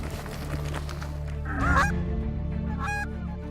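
Geese honk during a waterfowl hunt, a few loud close calls rising over a steady low rumble of wind and background noise.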